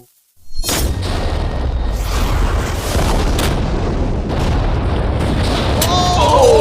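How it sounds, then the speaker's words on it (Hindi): A huge explosion in a Minecraft-style video game bursts in suddenly after a moment of silence, then rolls on as a loud, sustained roaring rumble for several seconds. "ये एक बहुत ही बड़ा धमाका होने वाला है।"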